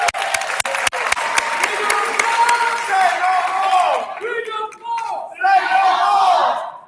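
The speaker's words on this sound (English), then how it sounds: "Give them a round of applause." A conference audience at a national meeting in Detroit bursts into loud applause with shouts and cheering, sharp individual claps at first, then whoops and calls rising over the clapping before it tapers off.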